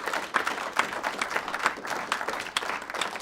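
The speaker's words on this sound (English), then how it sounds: "We can clap at that." Audience at a film summit panel breaking into applause, a steady patter of many hands clapping in a room for a few seconds.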